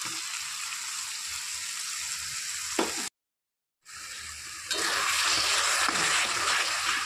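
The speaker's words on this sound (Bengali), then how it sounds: "সব কিছু একসঙ্গে ভালো করে কষিয়ে নেব।" Jackfruit and prawn with Kashmiri red chilli powder and other spices frying in a pan, a close sizzle that cuts out briefly, then returns louder and brighter as more ingredients go in.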